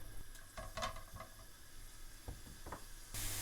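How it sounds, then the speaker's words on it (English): Grated onions gently frying in oil in a pan for a British Indian restaurant korma, giving a soft, steady sizzle close by with a few brief stirring clinks and scrapes, no voices. "Gently fry the grated onions until they soften."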